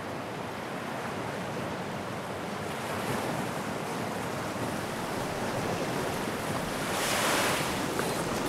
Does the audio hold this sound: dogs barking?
no